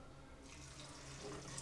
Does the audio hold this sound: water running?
yes